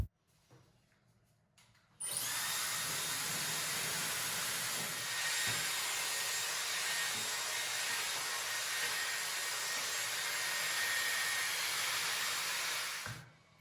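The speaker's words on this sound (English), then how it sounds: "I will dry one part of my hair as usual." A hair dryer switches on after a short quiet start and blows a loud, steady whooshing hiss while drying hair, then cuts off near the end.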